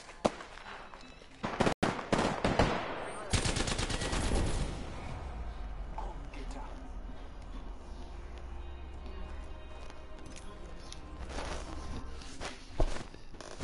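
Gunfire rings out in a shooting video game, with a sharp shot, then a dense burst of rapid fire and some scattered later shots, over a steady low game rumble.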